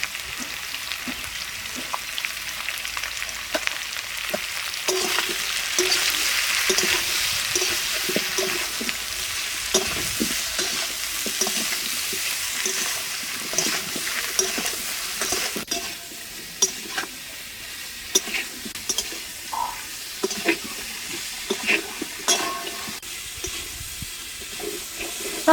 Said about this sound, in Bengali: সব কিছু ভালো করে কষানো হয়ে গেছে